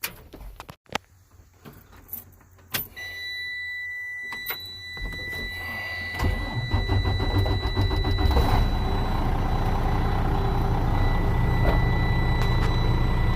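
A Mercedes-Benz truck engine being started: scattered clicks and key or cab sounds come first, then the engine cranks and fires partway through and settles into a loud, steady rumble up close.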